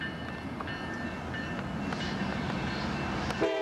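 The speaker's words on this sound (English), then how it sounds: "Here comes a train from the..." At night a train rolls past a rail crossing, a continuous loud rumble with clattering wheels and faint tonal ringing, steady throughout and heard close without voices.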